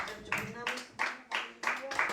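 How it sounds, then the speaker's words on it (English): A church congregation clapping in a steady beat, about six loud bursts over a voice speaking underneath. "Clap and thank God."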